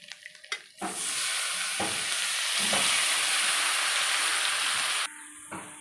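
A paste of nuts, melon seeds, poppy seed and sesame frying in a pan: a loud, steady hissing sizzle that starts abruptly after a few quiet taps, with occasional spoon knocks, then cuts back to a lower bubbling near the end.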